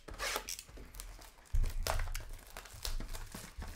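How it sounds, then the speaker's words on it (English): Packs of trading cards being torn open, crinkly foil wrappers crumpling and ripping in quick close bursts, with faint handling noise and no talking. "let's go ahead and open some cards."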